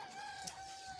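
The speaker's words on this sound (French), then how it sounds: "Des poules et des coqs qui sont encore sur des arbres en plein jour." Chickens and roosters perched in trees in broad daylight cluck and crow faintly in the distance over a steady background hum.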